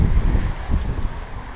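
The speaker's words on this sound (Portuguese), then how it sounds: "Vento muito forte." Strong wind gusts batter the microphone outdoors during a windstorm, a loud low rumbling roar that surges and eases over a short stretch.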